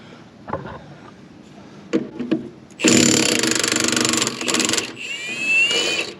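A Milwaukee M18 impact wrench undoing a car lug nut, with a few clunks and handling knocks, then a loud rattling burst of hammering, a brief pause, and a whining spin-down.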